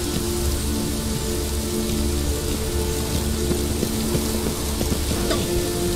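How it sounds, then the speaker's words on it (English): Steady rain in The Witcher 3: Wild Hunt patters and hisses without pause, a dense even wash of droplets with a faint low hum underneath. "Witches have conjured rain."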